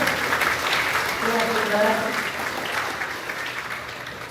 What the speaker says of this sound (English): let's give them a round of applause for giving those A's all year